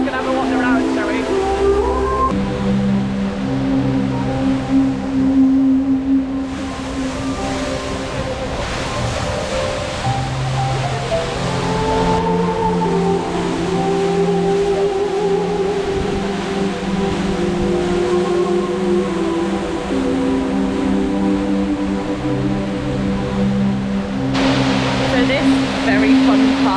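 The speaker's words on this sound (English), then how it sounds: "Very fun part of the expo is a water feature designed by a company called WET" A large water-feature fountain at Dubai Expo 2020 sends up a steady, broad rush of splashing water that fills the whole stretch, with voices and other background sounds mixed underneath.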